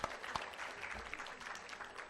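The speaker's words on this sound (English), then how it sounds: "A round of applause, please." An audience claps in a round of applause for a film and TV actress at a women's empowerment event, a steady, dense patter of hands that carries on evenly and fairly quietly throughout.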